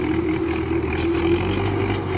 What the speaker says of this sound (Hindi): ताऊ जी फुल लो जी भाई, जोर देखो ट्रैक्टर के